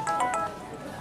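A mobile phone rings with an incoming call, playing a quick run of repeating bright electronic tones that fade out within a second, with no talking.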